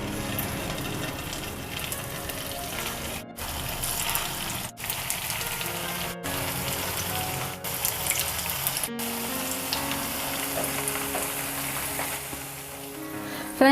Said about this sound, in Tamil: நம்ம ஷாலோ ஃப்ரை தான் பண்ண போதும், டீப் ஃப்ரை கிடையாது